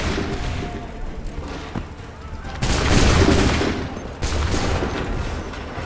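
Musket volley fire in Assassin's Creed III Remastered at the Battle of Lexington: dense, loud crackling volleys of many guns going off together, rising into a heavier barrage midway, with a brief lull before another ragged burst.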